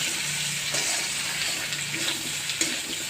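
Water is poured into a pan of cooking shukto curry of fried vegetables with salt and turmeric, a steady close splashing gush with small clinks along the way.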